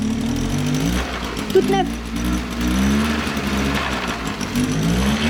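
A small engine runs and revs with an uneven low throb and rising pitch, close by, while someone talks over it.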